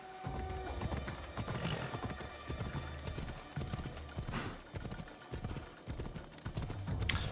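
Donkey hooves clip-clopping in Assassin's Creed Odyssey, a continuous run of close, rhythmic hoof strikes with game ambience underneath.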